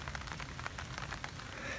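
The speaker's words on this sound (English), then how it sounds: "There's nothing nicer than rain on the tarp." Gentle rain patters steadily on a camping tarp at a clifftop base camp during bike camping, a soft, even spread of close drops with no voices.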